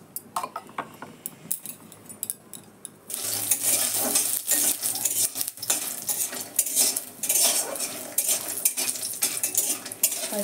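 Chopped vegetables go into hot oil in a kadai, a quiet start giving way to a loud, broad sizzle with repeated clinks and scrapes of a metal spoon stirring.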